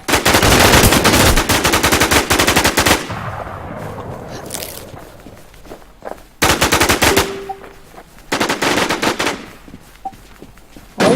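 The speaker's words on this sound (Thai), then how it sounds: "บนรถเมย์ยิงตนหนแตกแล้ว" Video game gunfire: loud bursts of rapid automatic fire separated by short quieter pauses, with a few brief electronic beeps between the bursts and no speech.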